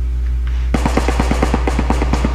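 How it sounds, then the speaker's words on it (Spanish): Automatic gunfire in the video game PUBG Lite crackles in a rapid, evenly spaced burst of a dozen or so shots over a steady low hum, loud and close. "Nos van a balazos."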